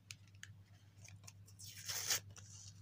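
A paper surprise packet is torn open, a few small crinkles and taps leading into one quick, close ripping tear that swells and stops sharply.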